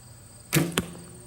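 An arrow released in archery strikes a target at about ten yards: a sharp thwack followed by a second, shorter impact a moment later, close and loud against a quiet background.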